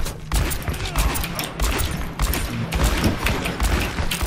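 Video game gunfire crackles in rapid, uneven bursts of close shots, loud and sharp, with brief pauses between volleys and little else beneath.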